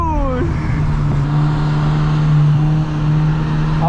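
A 20th Anniversary Edition MK4 GTI's engine revs loud and close, dropping into a steady drone with a brief fluttering note from the turbo, while voices murmur faintly underneath.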